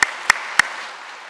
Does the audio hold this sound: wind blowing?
no